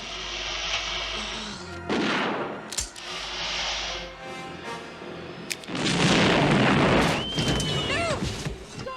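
Grenade explosions in the film Aliens Special Edition erupt as several loud, heavy blasts over a dense, rumbling action soundtrack, with other effects crowding the mix between bursts.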